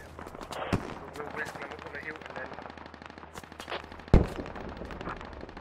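Gunfire and rocket explosions ring out in the military video game Squad: dense, rapid shots crackle throughout, with two heavy booms standing out, one near the start and a louder one toward the end.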